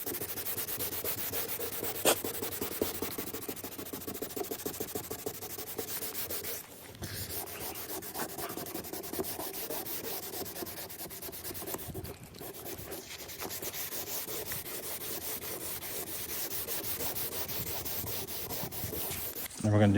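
Steady, rhythmic rubbing of 600 grit sandpaper on a Dodge Charger headlight, continuing close-up for the whole stretch with only brief pauses.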